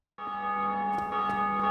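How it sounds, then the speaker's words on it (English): In Dark Souls Remastered, a large bell struck by another player rings out with a sudden clang. A bright, sustained metallic tone carries on with steady ringing overtones, and faint clicks sound beneath it. "That is another player ringing the bell."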